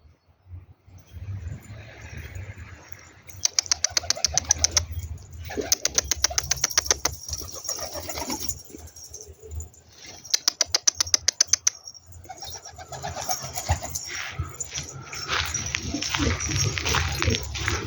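Pigeons being released to fly: bursts of loud wing flapping and clattering takeoffs stand out over soft cooing and outdoor ambience, with quieter stretches between the flurries.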